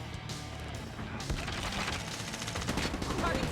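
Rapid HVK-30 assault rifle fire in the mobile shooter game Call of Duty: Mobile, a steady stream of dense automatic bursts mixed with other game effects, with a voice talking over it.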